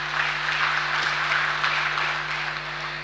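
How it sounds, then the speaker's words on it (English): Audience at an official launch event breaking into sustained applause, a dense even wash of clapping from a large crowd over a steady hum in the hall. "Let's give him a round of applause."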